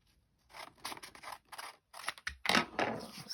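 Scissors cut through patterned end paper from a book, a series of close, crisp snipping and slicing strokes that get louder and rougher toward the end, with no talk.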